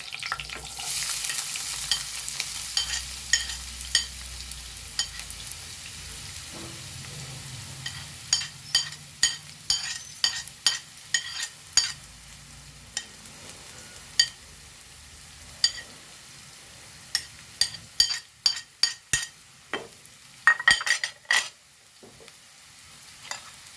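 Chilies and onion frying in a pan for chicken kothu parotta, with a steady sizzle and frequent sharp scrapes and clinks of stirring that grow busier toward the end.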